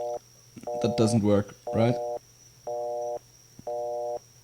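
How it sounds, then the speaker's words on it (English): A phone's busy signal after the redial button is pressed: about four steady tone bursts, evenly spaced, over a low constant hum. A person speaks briefly over the first bursts. "I'll just hit the redial button on my phone."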